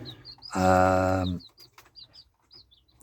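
Welsummer chickens call with a loud, drawn-out, tonal vocalization that lasts about a second. Small chirps and short clucks are scattered before and after it, and a voice briefly speaks at the start.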